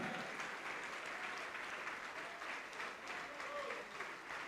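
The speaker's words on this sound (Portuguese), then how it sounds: "Vamos aplaudir mais ao Senhor Jesus." A church congregation applauds with dense, sustained clapping that holds steady and fills the room, with some voices mixed into the crowd.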